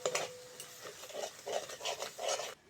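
A spoon scrapes and stirs ginger-garlic paste, salt, turmeric and chili powder frying in a pan for Bengali egg curry, making soft, quick rhythmic rasps up close and fairly faint.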